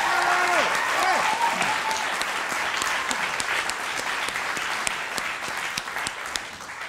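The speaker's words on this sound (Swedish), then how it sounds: "Applåd för Jörgen" A crowd applauds steadily for several seconds, the clapping dense and fairly loud, with a brief held musical note fading at the start.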